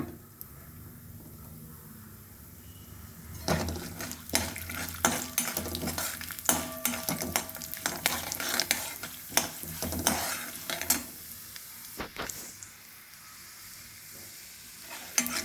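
Mustard seeds and urad dal hit hot oil and splutter in dense, rapid crackling pops, building after a quiet sizzling start and fading toward the end, with occasional metallic clinks of a utensil.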